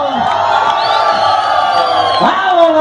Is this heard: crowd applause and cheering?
yes